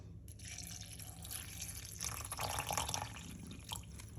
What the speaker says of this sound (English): We're gonna put some water.